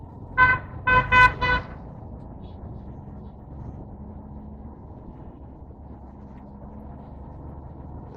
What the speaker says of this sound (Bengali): আবার হরেন যাচ্ছে